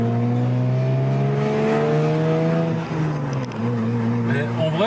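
Supercharged Lexus IS200 with its catalytic converter removed, revving and pulling while driving, a steady engine drone with rising and falling harmonics, a brief dip near three seconds, and a voice speaking over it.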